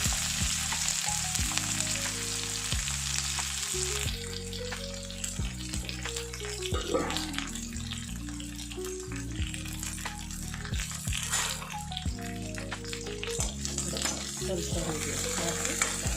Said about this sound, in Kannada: ಒಗ್ಗರಣೆಗೆ ಸಾಸಿವೆ ನೋಡಿ ಚಟಪಟ ಅಂತ ಇದ್ದಾವೆ